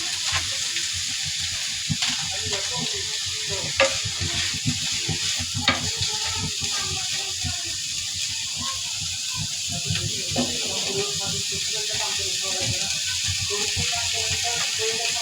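Bitter gourd (ucche) frying in a pan, a steady close sizzle and hiss with occasional stirring scrapes and clicks throughout, no voice over it.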